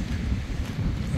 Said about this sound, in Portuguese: Bastante vento aqui agora.